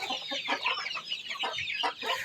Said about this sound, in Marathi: खूप कोंबड्या भांडण करतात बघा